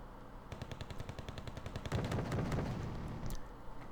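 Rapid bursts of battlefield gunfire in the war strategy game Wargame Red Dragon, a dense machine-gun rattle that grows heavier and louder partway through.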